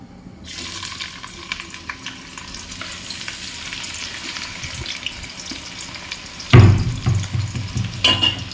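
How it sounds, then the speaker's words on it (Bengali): Onions fry in hot oil with whole garam masala, a steady close sizzle with scattered stirring scrapes, swelling into a louder burst of crackling near the end as the pan is worked. "পুরো পেঁয়াজটা ভালো করে ভাজবো"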